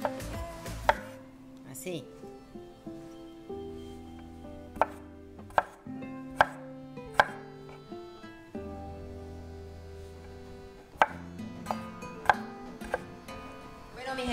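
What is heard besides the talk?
cutting asparagus in a zigzag with a knife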